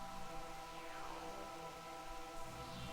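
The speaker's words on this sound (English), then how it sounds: "Oh, look at all the rain on my visor." Steady soft patter of rain striking a helmet visor in Metroid Prime, faint and continuous over a humming ambient game soundtrack, no voices.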